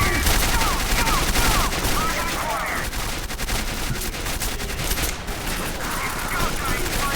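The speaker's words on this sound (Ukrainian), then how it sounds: "Ой, куди я стріляв по своєму?" Rapid bursts of gunfire in the game Quake 4 crackle throughout, dense and continuous, with a voice talking over the shooting.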